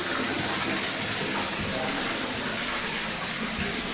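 Cold water flowing continuously at a Narmadeshwar shrine inside a cave in Chandrapur, Chhattisgarh, a steady, even rush that fills the whole space without pause.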